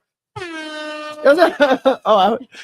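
A long, steady air horn blast sounds first, then a voice speaks in short bursts right after it.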